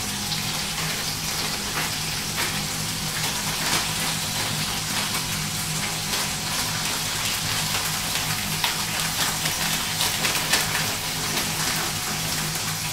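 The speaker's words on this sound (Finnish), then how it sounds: "Sitten vaan tällä kasvikset tänne sekaan lämpenemään tänne" Vegetables sizzle steadily in a hot pan, a continuous close crackling hiss with no pauses, alone and without talk.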